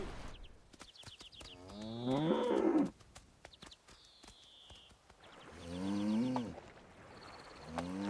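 Cattle being moved from Stenshall Island back to Skye in the Hebrides in spring give several loud, drawn-out moos, some near and some farther off, with rumbling low calls between them.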